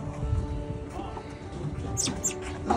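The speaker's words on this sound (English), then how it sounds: "Pretty bird." A small bird gives a few faint, brief high chirps near the end, under low background noise and a steady hum.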